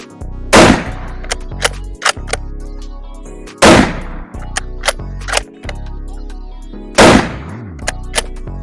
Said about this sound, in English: Go and shoot this thing.